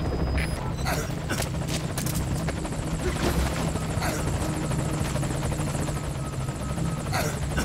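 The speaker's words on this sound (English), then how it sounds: "Oh, I hear the chopper." A military helicopter in the video game Metal Gear Solid V: Ground Zeroes thumps loudly and continuously with dense rotor chop, close and sustained, with sharp clicks and bursts scattered over the drone.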